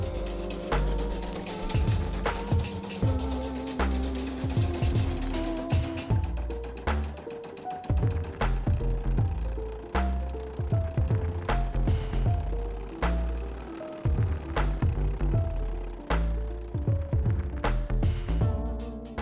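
An embroidery machine stitching out a patch design gives a loud, fast, rhythmic clatter of needle strikes, heard close and continuous with slight shifts in pace and no talk.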